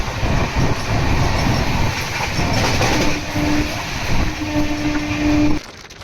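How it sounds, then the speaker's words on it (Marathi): A Janshatabdi Express train rumbles and rattles over the tracks at speed, loud and continuous from inside the chair car, with a thin metallic squeal rising near the end before it quiets. "आणि ट्रेन बऱ्यापैकी स्पीडमध्ये आहे"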